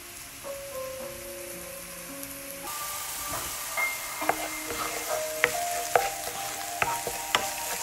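Onion frying in oil in a pan for a shrimp, rice and mushroom dish, a steady close sizzle with a low tune playing early, then sharper crackles and utensil clicks.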